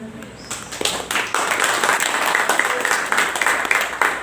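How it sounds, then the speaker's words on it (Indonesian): Applause breaks out in a hall as a speaker pauses, starting after a brief moment and building into a strong, steady clapping from the crowd that continues to the end. "Boleh tepuk tangan?"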